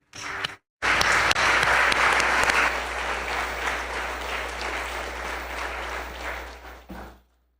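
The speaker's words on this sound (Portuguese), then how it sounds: "Aplauda o Senhor." A church congregation bursts into loud, sustained applause after a brief opening sound and a moment of silence, the clapping strongest at first, then easing slightly before cutting off abruptly near the end.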